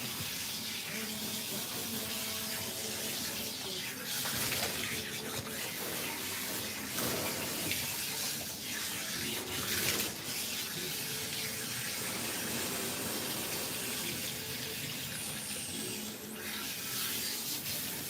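Running water rinses shampoo lather from a cat with a problem coat during grooming, a steady close splashing flow with rubbing sounds throughout, lasting the whole stretch.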